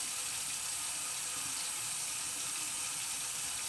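Water runs steadily through locs during a wash, a soft continuous hiss and splash like a tap flow, fairly quiet and unbroken, with no talking.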